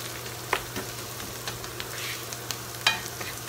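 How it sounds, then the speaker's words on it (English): Onions sauté in a pan, a soft steady sizzle with occasional scraping stirs and small pops, fairly quiet and with no talk over it. "I do believe these onions are sufficiently sauteed at this point"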